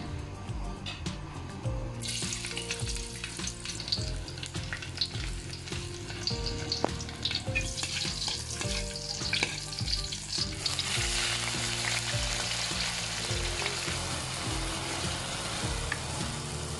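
Cooking oil sizzles and fries steadily in a pan during a family New Year meal, a dense continuous crackle with occasional stirring and tap water noises, and no voices.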